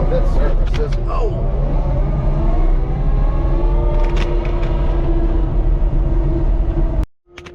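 A Caterpillar 275 compact track loader rumbles steadily and close by as it climbs onto a trailer after servicing, its drone continuous until it cuts off abruptly near the end, with brief voices over it.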